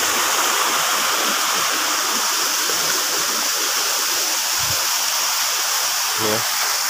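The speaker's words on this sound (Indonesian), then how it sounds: "Itu juga ya terjun." The Ci Koning waterfall in Bogor roars with a dense, constant wash of rushing water, loud and unbroken throughout, with a faint voice briefly audible near the end.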